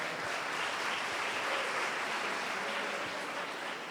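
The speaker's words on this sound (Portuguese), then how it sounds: "Dê uma forte salva de palmas." Sustained audience applause fills a church conference hall, a dense, steady wash of many hands clapping at even loudness throughout, with no talk over it.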